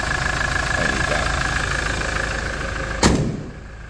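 A 2021 Toyota Hilux Invincible X with a 2.8 diesel idles steadily and close, with a sharp click or thump near the end before the engine note drops away.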